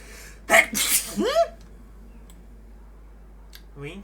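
A cat sneezes sharply twice in quick succession close by, followed by a brief rising chirp and a few faint clicks, then quiet, with a soft voice at the very end.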